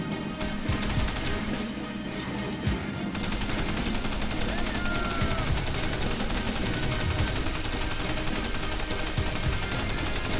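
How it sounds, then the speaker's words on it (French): Vehicle-mounted machine gun firing in the war game Men of War: Condemned Heroes, with sustained rapid bursts of gunfire over battle noise, loud and continuous for about ten seconds, without speech. "On va utiliser la mitrailleuse dans le véhicule."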